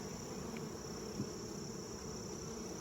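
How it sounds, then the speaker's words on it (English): Honey bees buzz steadily on a hive frame in a mating nuc, a faint, even drone with no speech. "I really don't like these bees. I was kind of happy to replace the queen. They're just really fidgety."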